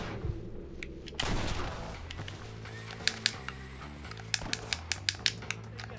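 Revolver gunshots in Red Dead Redemption: a burst of gunfire, then a series of sharp, spaced single shots crack out one after another over quiet game ambience.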